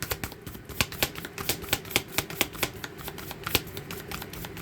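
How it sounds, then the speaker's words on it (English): Tarot cards being shuffled by hand, a quick run of crisp riffling snaps and slaps in an uneven rhythm, close and fairly loud with no talking. "So when I can't shuffle like that anymore, that's telling me that we're done."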